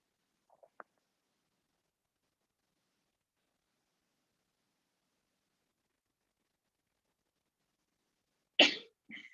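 A single sharp sneeze bursts out near the end after a long silence, preceded by a couple of faint small clicks.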